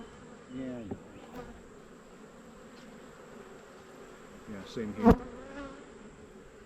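Honey bees drone steadily around an open beehive that is weak and has hive beetles, a continuous buzz under brief nearby speech, with a louder close fly-by near the end.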